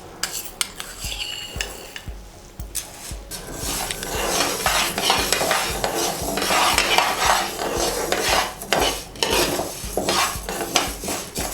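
Fenugreek seeds frying in a pan for a red chilli pickle, stirred with a metal spoon: repeated scraping clinks against the pan over a soft continuous sizzle, close and busy throughout, with no talking.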